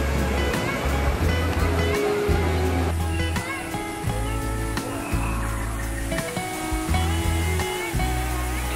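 Steady roar of rushing water from a waterfall on Adventure Isle in Adventureland at Disneyland Paris, constant and full, with a looping musical tune playing over it.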